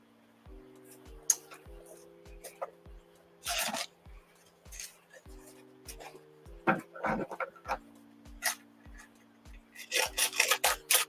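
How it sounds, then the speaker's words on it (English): Light hand sanding on a small scrap wood gnome figure, soft broadband rubbing strokes in short bursts, with a steady low hum running underneath. "Just gonna give it a little light sand."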